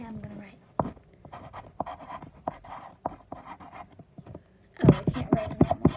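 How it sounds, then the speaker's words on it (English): Handwriting on paper, a pen scratching in short bursts and strokes that come and go, close and fairly clear, with a livelier run of quick strokes near the end. "I'm going to write"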